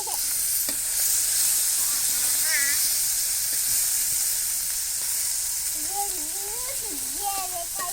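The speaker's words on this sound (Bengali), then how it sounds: "এই যে কতগুলা ভাজা হয়ে গেছে আর এই ভাজবা লাগছে গুড়া মাছ" Small fish sizzle and hiss as they fry in a pan in a village kitchen, a steady close-up crackle with occasional stirring and voices talking over it.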